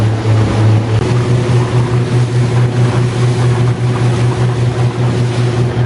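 Boat engine droning steadily at Cork Harbour, Ireland, with a low continuous hum, wind and lapping waves on a summer's day; no talking.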